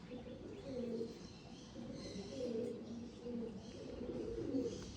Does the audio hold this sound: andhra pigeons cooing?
yes